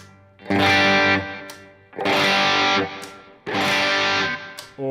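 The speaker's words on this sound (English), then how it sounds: "I'm just playing the same 3 chords over and over again, but I'm doing it with different tones" An electric guitar plays the same three chords, each struck and held under heavy distortion and effects, in three loud sustained bursts separated by short gaps.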